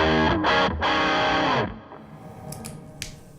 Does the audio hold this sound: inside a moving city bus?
no